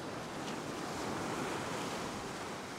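Sea waves surge and wash on a shore during fishing, a steady, loud rushing roar with wind noise and no speech.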